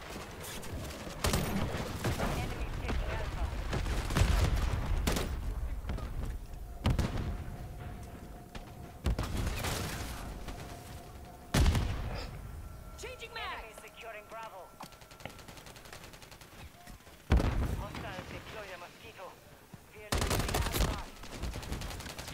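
Bursts of gunfire and sharp explosions in Call of Duty: Modern Warfare III crack through a busy game soundscape, with rapid volleys and short lulls, while a voice talks intermittently underneath.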